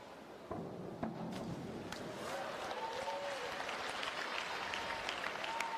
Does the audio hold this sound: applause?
yes